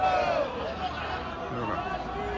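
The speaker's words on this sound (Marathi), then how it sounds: "जनरल लाईनमध्ये बरीच गर्दी आहे" Dense crowd babble fills the space throughout, a steady mass of overlapping voices from people queuing in the general line at Mahakaleshwar temple in Ujjain, India.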